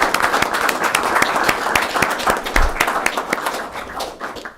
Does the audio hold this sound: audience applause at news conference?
yes